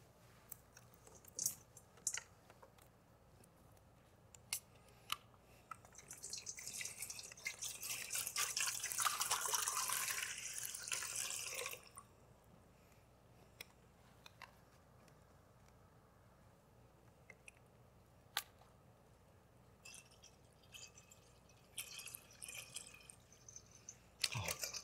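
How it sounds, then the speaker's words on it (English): Water is poured into a basin during a church service reenactment: a steady splashing pour of about five seconds in a quiet room, surrounded by scattered small knocks and rustles. "He poured water into the basin."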